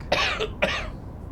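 Two short, harsh coughs from one person close by, separated by a brief pause, with quiet room tone afterward.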